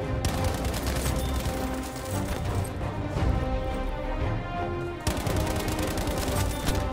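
Rapid bursts of StG assault rifle fire from the video game Battlefield V crackle loudly and almost continuously, with a brief lull before another dense volley of shots.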